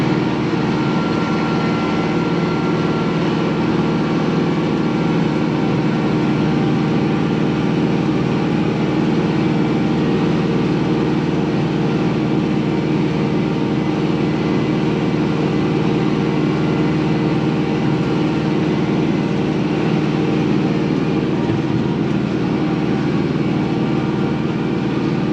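A Kubota L6060 tractor engine runs steadily while pulling a RhinoTS 10 brush cutter, a loud continuous low drone with a broad mechanical roar that holds even throughout, with no voices over it.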